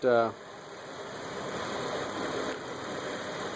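A 2007 Suzuki XL-7 3.6L V6 engine idles steadily with a low, even rumble after a water pump replacement, preceded by a brief louder burst at the very start.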